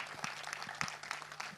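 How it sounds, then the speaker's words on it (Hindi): Quiet scattered applause from an audience at a movie trailer launch event, uneven claps over a low steady hum. "Mr. Deepak Mukut के लिए जोरदार तालियां हो जाएं"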